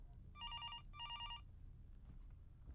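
An old telephone bell rings two bursts in a rural house in the horror game Fears To Fathom, clear electronic trills over a quiet low background.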